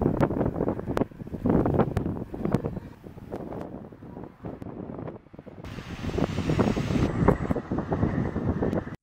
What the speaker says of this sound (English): Look at this crazy wind.